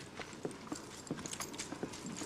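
Horse hooves clip-clop in a steady walking rhythm of distinct knocks at moderate distance, alone without talk, set in a Wild West show scene.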